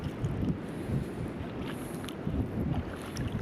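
Strong amihan monsoon wind buffeting the microphone, a continuous low roaring rumble with faint splashy water noise, steady throughout.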